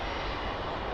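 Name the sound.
airplane landing at Lisbon Airport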